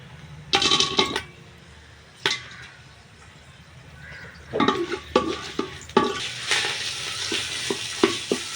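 Cashews tipped into a pot of hot frying oil and spices for pulao, loud bursts of sizzling with scraping stirs and clinks against the pot, alternating with quieter pauses.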